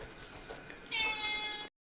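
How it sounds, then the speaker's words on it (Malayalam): A cat meows once while eating fish in a home kitchen, a short rising cry close by over quiet room noise. "നന്മയുള്ള പാത്തു കൊടുത്ത മീൻ പൂച്ച തിന്നുന്ന രംഗമാണ് നമ്മൾ കാണുന്നത്."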